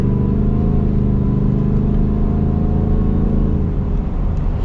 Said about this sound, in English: And the exhaust, you guys heard the exhaust note.